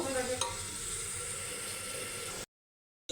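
Beef pieces and ginger-garlic paste fry in a pressure cooker pot, giving a steady close hiss and sizzle with one brief clink before the sound cuts off abruptly.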